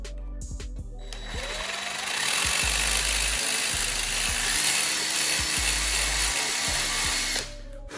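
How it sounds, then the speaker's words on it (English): A power drill with a step bit boring through the back side of a plastic LED tail light housing, a loud steady whine rising in pitch as it bites, with short starts before and a stop near the end. "For this, I'm just gonna drill from the back side so that it don't damage the front side."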